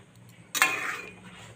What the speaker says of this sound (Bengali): আমি ঢাকাটা খুলে দেখে নিচ্ছি